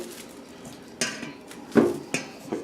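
Potatoes dropped whole into a cooking pot land with several sharp knocks against the metal, a few separate clunks spaced irregularly at close range, with no talking.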